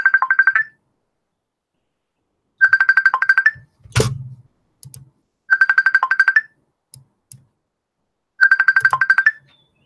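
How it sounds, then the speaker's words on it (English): A phone notification ringtone plays four times in repeated short bursts of bright, pulsing tones, with a brief clatter of handling noise in the middle, in an otherwise quiet room. "I didn't know how to switch off notifications"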